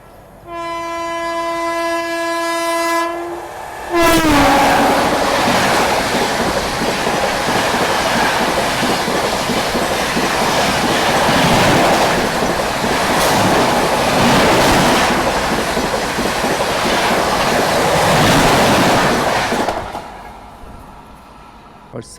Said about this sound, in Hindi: सामने की तरफ से नई दिल्ली लखनऊ स्वर्ण शताब्दी एक्सप्रेस जो वो आ रही है।